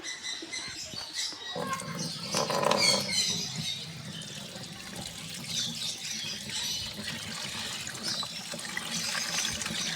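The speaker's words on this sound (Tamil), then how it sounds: "அந்த ஃபெர்டிலைசரை மட்டும் இப்போ நம்ம எடுக்க போகிறோம் இல்லை வடிகட்டி எடுக்கலாம்" Banana peel liquid fertilizer strained into a tub, a soft trickling and dribbling stream with faint rustling, fairly quiet and close, no talk.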